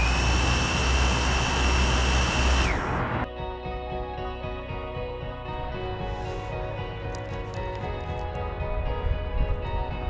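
An 8-rotor FPV cinema drone roars loudly at close range, its high whine dropping abruptly about three seconds in to a steadier, lower buzzing drone of spinning propellers that continues throughout.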